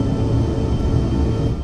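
Twin jet engines of a United SkyWest CRJ7 at takeoff power in the Aerosoft CRJ flight simulator, a steady loud low rumbling roar heard from beside the wing.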